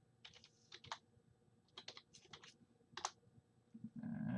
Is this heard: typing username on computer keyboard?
yes